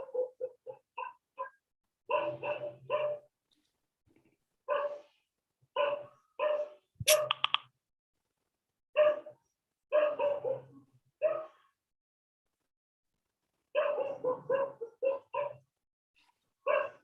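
A dog barks in short repeated bursts, some single, some in quick clusters, spread across a long stretch with silent gaps between them; fairly close and clear, with no voices over the barks.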